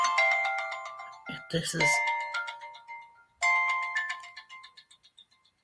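A phone rings during an outgoing call. A bright electronic ringtone repeats in short chiming bursts, broken by brief speech, then rings again and fades away.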